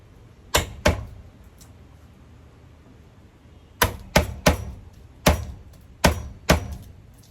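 Garlic cloves for paksiw na bangus are crushed with sharp, loud thuds: two quick blows, a pause, then six more in an uneven rhythm, with no talking.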